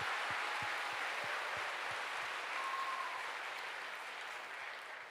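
A church congregation at an Easter service applauds. Steady, even clapping fills the room for several seconds, with a few louder individual claps near the start, then eases slightly toward the end.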